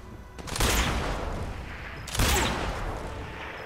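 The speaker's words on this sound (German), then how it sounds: "wie viele Schüsse hält der denn noch aus?" Two loud gunfire bursts ring out about 1.6 seconds apart in Sniper Elite 4, each a sharp broadband crack with a decaying tail, in a military camp setting.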